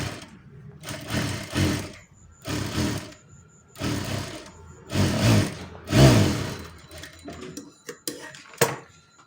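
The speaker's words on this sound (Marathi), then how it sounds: "तर आता आपण दाब टीप मारून घेऊया" A sewing machine stitching a blouse sleeve seam, running in several short bursts of rapid needle clatter separated by pauses, with small clicks and handling sounds between runs.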